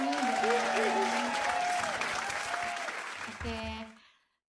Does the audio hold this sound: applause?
yes